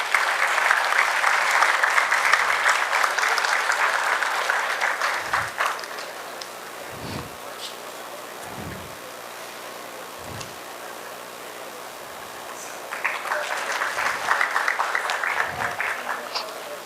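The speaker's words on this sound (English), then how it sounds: "Let us have a huge round of applause to welcome sir." Auditorium audience applauds to welcome a lecturer at a distinguished lecture on the Indian space program: loud sustained clapping that fades to a lull with a few low thumps, then swells again near the end.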